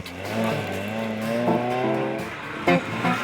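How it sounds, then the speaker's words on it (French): A Triumph TR7 rally car competing in a historic rally passes close by with a steady, loud engine drone that rises and falls in pitch, with a couple of sharp bursts near the end. "on pointait cette Triumph TR7 que Franchi et Sibyl ont amené au bout de l'aventure"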